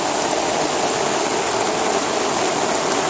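Water pours steadily out through a homemade flood drain flap during Houston flooding, a dense, constant rushing splash that stays loud and even throughout.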